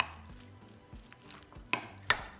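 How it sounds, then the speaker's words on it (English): Sour cream and spices are stirred together in a bowl for a chimichanga filling, giving soft intermittent scraping and stirring sounds with two brighter clinks near the end, close and quiet, with no talking. "We're just going to begin to mix it together first."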